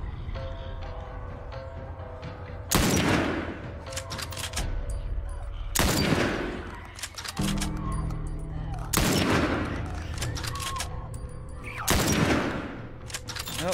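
Gunfire in The Last of Us video game, with several loud sharp bursts of shots spaced a few seconds apart over a quieter background of ambience and faint voices.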